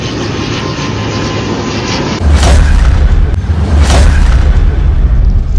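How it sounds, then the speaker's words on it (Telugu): A fixed-wing airplane flying low overhead near an airport in Andhra Pradesh, a loud steady engine roar that swells sharply partway through and stays heavy and close, with no talk. "మొత్తం ఫ్లైట్ మొత్తం ఈడికెళ్ళి ఎగురుతున్నాయి"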